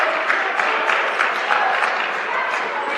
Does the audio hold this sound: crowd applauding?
yes